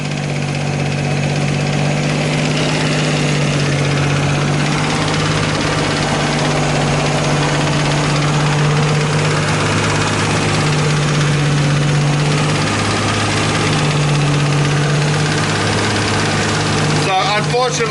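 A Nissan R32 Skyline GTST time attack build idles with a suspected engine knock, a loud, steady, close rumble with a faint rhythmic ticking and vibration running throughout.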